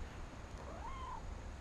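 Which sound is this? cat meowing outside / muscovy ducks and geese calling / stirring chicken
cat meowing outside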